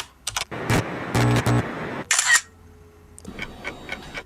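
CapCut mobile's mechanical sound effect plays as a preview: a run of loud clicking, clattering mechanical bursts, a sharp high whir, then a quieter rattling tail, with no voices.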